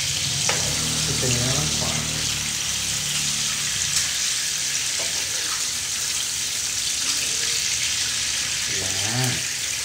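Onions frying in a pan give a steady broadband sizzle throughout, with people talking over it in the foreground.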